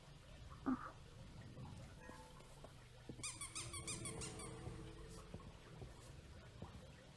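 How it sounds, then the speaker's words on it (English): In the video game Sexual Offenderman, a rubber duck gives one sharp squeak, close and brief, over a low rumbling background with faint clicks and tones. "You get to squeak the duck."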